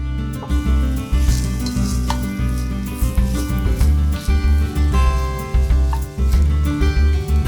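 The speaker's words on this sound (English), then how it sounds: "Once hot, I'll add in the chopped onion and sauté a bit before adding in the ground beef and Italian sausage." Chopped onion, ground beef and Italian sausage sauté loudly in olive oil in a pot, a close, continuous sizzle broken by repeated scraping stirs and clanks against the pot.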